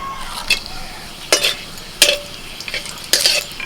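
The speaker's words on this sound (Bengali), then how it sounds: "তেলটা গরম হয়ে গেছে এবার ফোড়নে দিচ্ছি তেজপাতা এলাচ লবঙ্গ আর দারচিনি" Bay leaf, cardamom, clove and cinnamon dropped into hot refined oil sizzle softly, punctuated by several sharp spoon clinks and stirs against the pan at close range.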